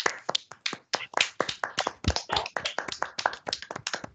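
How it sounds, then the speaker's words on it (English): Online meeting participants clap for presenters in a Brown Bag session, a close, crisp run of many sharp hand claps that overlap irregularly and feel near the microphone rather than a large crowd. "give Mika, Wissal, and Haoyi a big round of applause"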